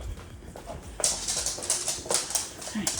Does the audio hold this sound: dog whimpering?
yes